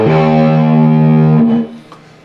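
A distorted electric guitar plays a short lick in fifth position. A sustained, ringing bend fades out after about a second and a half.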